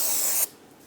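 A short, close hiss of parts cleaner sprayed onto a brake rotor, ending abruptly after a moment into quiet.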